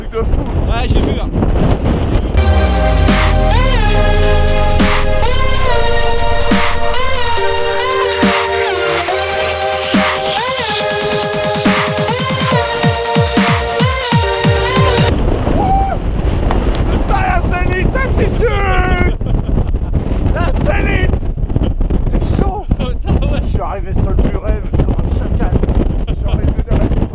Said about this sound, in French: Tempête, le vent il est monté d'un seul coup.